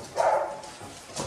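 Dogs at a snowy, icebound mountain base in below-freezing cold give a short, fairly close bark, then fall quiet before a fainter yelp at the end.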